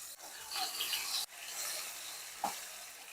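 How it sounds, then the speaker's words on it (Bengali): Spice paste and tomato sautéing in mustard oil in a pan, with a steady broadband sizzle and stirring scrapes for about three seconds, fairly close, with no talking. "ভালো করে নাড়াঘাটা করে মশলাগুলোকে আমি কষিয়ে নিচ্ছি"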